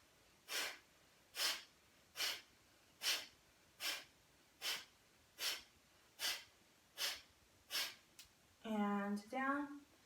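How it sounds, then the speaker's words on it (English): Bellows breathing during a yoga class: about a dozen sharp, evenly spaced forceful breaths, close and clear, followed by a brief spoken instruction at the end. "Back to center, bellows breathing"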